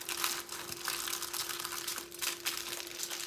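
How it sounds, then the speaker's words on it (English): Aluminium foil crinkles and rustles as it is pressed over a batch of oatmeal cookie dough, a steady close crackling texture with no talk. "And I'm going to put a piece of foil over mine."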